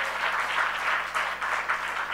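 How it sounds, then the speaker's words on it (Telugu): A church congregation claps together in a brief burst of steady, dense applause. "చప్పట్లు కొట్టి దేవుని స్తుతిద్దాం."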